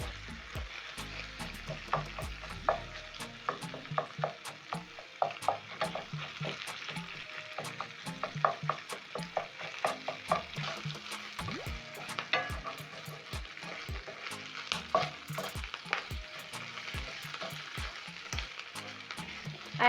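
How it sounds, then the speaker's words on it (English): Sausages sizzle steadily in a pan while a spatula breaks them apart, sharp scraping clicks and taps punctuating the continuous frying hiss throughout. "I'm going to break down the sausages using my spatula."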